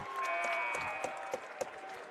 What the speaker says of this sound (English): Crowd starting to get into this one a little bit more.